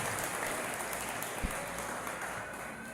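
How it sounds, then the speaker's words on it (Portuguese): A church congregation applauds, a faint, diffuse patter of many hands that stays steady throughout and sounds distant and roomy, with one brief low thump partway through. "Você pode aplaudir o Senhor?"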